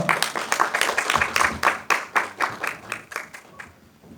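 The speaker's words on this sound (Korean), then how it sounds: "큰 박수 부탁드리겠습니다" Audience clapping at a training session, a steady patter of many hands at moderate distance that gradually thins and fades out.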